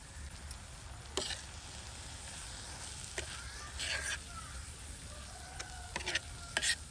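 Egg tawa masala sizzles on a street-style tawa, coriander, garam masala and turmeric frying in oil with a low steady hiss, broken by several scraping stirs of a spatula against the pan.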